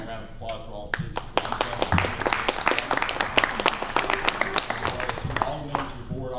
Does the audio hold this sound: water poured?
no